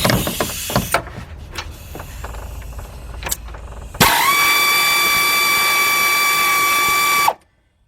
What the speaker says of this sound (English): now I'm going to go in there with my 3/8 drive air ratchet